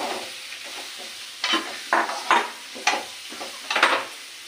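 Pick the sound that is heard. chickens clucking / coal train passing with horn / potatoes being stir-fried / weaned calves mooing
potatoes being stir-fried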